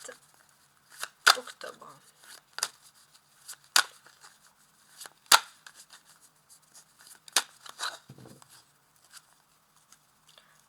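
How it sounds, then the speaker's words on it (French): A deck of tarot cards being cut and handled, with sharp, dry card snaps and riffles coming at irregular intervals close to the microphone, separated by short quiet gaps and some soft speech. "On va commencer tout de suite avec une première découpe du jeu."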